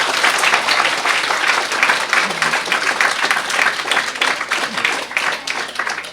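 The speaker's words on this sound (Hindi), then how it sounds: "शाबाश, बच्चों के लिए ताली बजाई फिर से" Audience applause for children at a student-focused talk in Kathmandu, Nepal: loud, dense, sustained clapping that carries steadily through the whole stretch, close and continuous.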